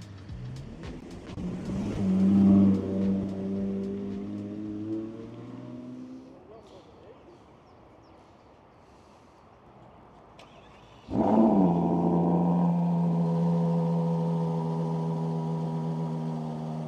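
A low-slung supercar revving as it reverses onto the upper deck of a car transporter, first a rising engine swell, a quieter idle, then a sudden loud rev that holds steady.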